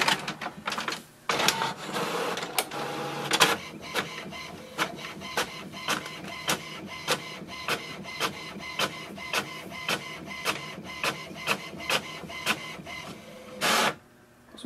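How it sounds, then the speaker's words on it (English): An HP Envy Photo 7855 inkjet printer runs off a page, its carriage clicking in a steady, regular rhythm of short pulses over a mechanical hum, ending with a louder feed burst near the close. "here we can see the printer has printed the welcome sheet"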